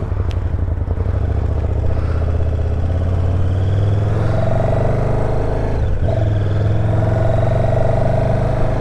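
A KTM SuperDuke 1290 R motorcycle engine drones steadily and loudly while riding, a deep continuous rumble with slight shifts in pitch and no talking.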